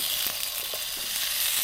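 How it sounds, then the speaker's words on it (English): Couscous sizzles steadily in a frying pan at a solo camp in the Peak District, a loud continuous hiss and crackle with small pops, no voices. "Oh, you gotta love that sizzle"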